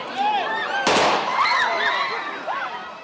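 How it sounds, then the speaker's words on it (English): A sharp gunshot cracks once to control a crowd during the war in Ukraine, with many voices shouting and yelling before and after the blast. "Gunshots to control crowds"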